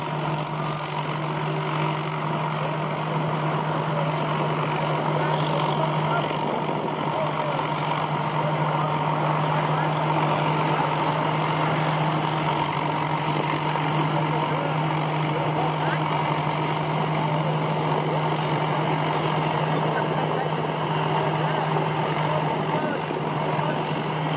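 The rear-mounted engine of a rice combine harvester runs at a steady idle with a constant low hum and a high whine, continuous throughout with no change in pace.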